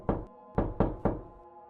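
Four hollow knocks strike a door, one single and then three in quick succession, close and clear against silence.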